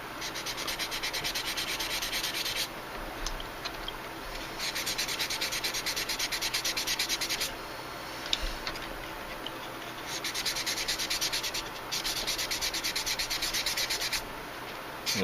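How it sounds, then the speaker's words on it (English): Steady, close rasping of sandpaper rubbing a small bubble on chrome-plated pot metal from a 1955 Chrysler part, in continuous strokes with brief changes in pressure. "Little bubble sands away pretty easy."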